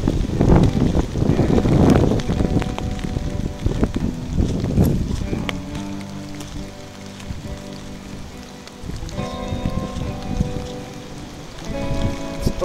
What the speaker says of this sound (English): Wow, listen to the wind.